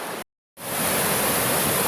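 Smaller falls on Big Cedar Creek in Russell County, Virginia, roaring as a dense continuous rush of water, cut by a brief gap of silence near the start before the steady roar resumes.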